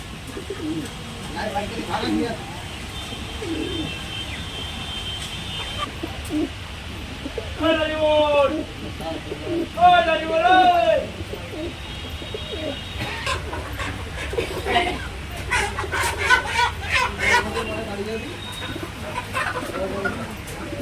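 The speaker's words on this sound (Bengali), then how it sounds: "আচ্ছা এই দুটো পায়রার নাম হচ্ছে ময়না জ্যাক" Mayna Jack pigeons coo at a busy pigeon market in Garia, with repeated warbling coos standing out over crowd noise, chatter and other birds while someone speaks nearby.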